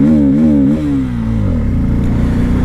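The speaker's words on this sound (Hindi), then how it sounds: "the engine is happy to rev and it does not restrict you" A Bajaj Pulsar F250 motorcycle engine revs up close, rising and dipping in pitch through a couple of quick throttle blips before settling into a lower, lumpy idle-like churn, loud and alone.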